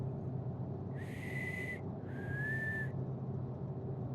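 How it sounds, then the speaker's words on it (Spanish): Eerie whistle-like hiss at night, two drawn-out breathy whistling tones each lasting about a second, separated by a short gap, faint against a quiet low background. "Sonó parecido a un silbido, pero más bien era un siseo."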